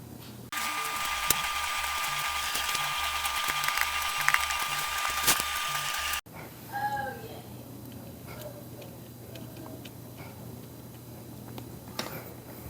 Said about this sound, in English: let's go ahead and screw down our motherboard